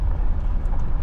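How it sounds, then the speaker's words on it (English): A car drives along a road in Modoc National Forest, a steady low engine and road rumble from inside the vehicle, continuous and fairly loud throughout. "we're driving down the road"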